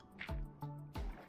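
Water dripping in a Minecraft game world, three distinct close drips in steady succession, each a short liquid plop, heard alone without talk.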